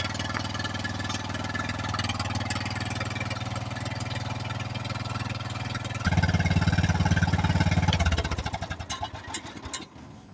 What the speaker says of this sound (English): we've got our little hot rod motor going here, the new carburetor on.